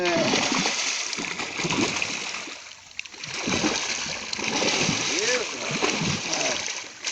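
Water splashes as fish, golden dorado or stingrays, leap and fall back into the river. Bursts of sloshing and splatter run through the clip, loud and close, with voices talking over them.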